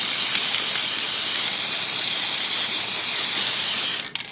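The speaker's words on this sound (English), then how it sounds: "I should spray the mold with a" Mold release spray hisses steadily from an aerosol can onto a mold for a wax injector, a loud continuous blast lasting about four seconds before cutting off abruptly.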